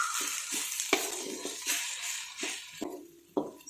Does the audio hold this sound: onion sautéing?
yes